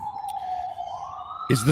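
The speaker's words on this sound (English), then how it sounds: "Are the sirens at your place?" A distant siren wails with a steady, slowly rising tone before a voice cuts in at the end.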